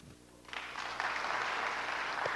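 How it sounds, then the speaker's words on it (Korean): Audience at a church talk breaks into sustained applause, a dense broadband clapping that starts about half a second in and holds steady and fairly loud to the end. "박수 한번."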